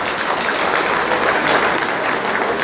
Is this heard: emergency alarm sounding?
no